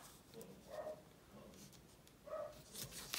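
A dog barks warning off strangers, two short distant bursts about a second and a half apart, muffled and faint against quiet room noise.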